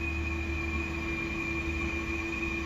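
Woodmads/FoxAlien WM3020 CNC machine homing, giving a loud continuous mechanical whine with steady stepper-motor tones and a dense rattling hum from its rails, constant throughout.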